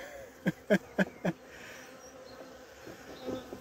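An opened honeybee hive grows agitated, giving a steady, close insect buzz. Four sharp, louder bursts come in quick succession near the start, then the buzz settles to a lower drone.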